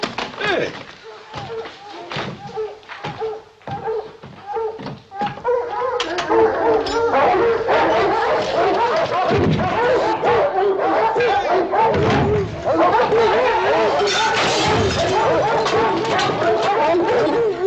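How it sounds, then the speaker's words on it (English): Several hounds bark and bay in overlapping bursts, first sparse and then in a loud, steady chorus, with occasional thumps in the background. "it sounds like hounds baying, don't it?"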